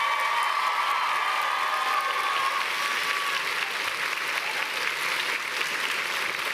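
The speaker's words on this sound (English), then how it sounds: "how about another huge round of applause for everybody sitting on this stage?" Sustained, even applause from a large audience at a spring university convocation ceremony, steady clapping filling the hall throughout with a faint voice at the start.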